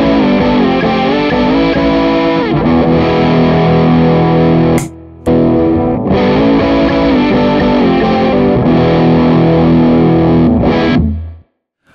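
Electric guitar played through a Band of Gypsys Limited Fuzz Face fuzz pedal, with thick, saturated distorted chords ringing steadily and loudly, a brief dropout near the middle, then ringing out to silence at the end.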